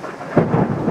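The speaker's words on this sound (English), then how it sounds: "Oh, thunder!" A single deep roll of thunder during a rainstorm, starting abruptly and rumbling loud and close for about a second, with rain hiss underneath and no voices.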